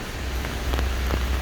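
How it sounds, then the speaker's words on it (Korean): Steady rain pours onto surfaces outdoors on a wet city street, a dense continuous hiss with faint scattered drops, close and even throughout. "비가 와서 좀"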